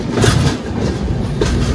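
A passenger train pulling out of Visakhapatnam rumbles steadily along the rails, with rhythmic clickety-clack of wheels over joints heard from inside the carriage.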